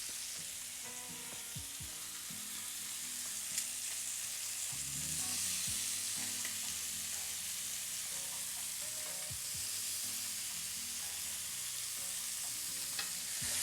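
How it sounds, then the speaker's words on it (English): Lamb sears in a cast iron skillet over medium to medium-high heat, a strong, even frying sizzle with occasional pops and spatters, close and sustained with no talking. "We're on about medium to medium-high heat in the cast iron skillet"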